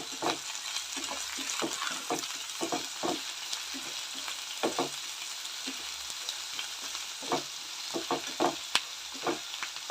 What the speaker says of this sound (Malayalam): നമുക്കിതിലോട്ട് കുറച്ച് കല്ലുപ്പിട്ട് കൊടുക്കാം. ഒന്ന് നന്നായിട്ട് ഇളക്കി കൊടുക്കാം.